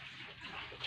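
Water in a typhoon-flooded house, a steady broadband wash like running or sloshing water with a brief brighter splash near the end, fairly close and moderate in level.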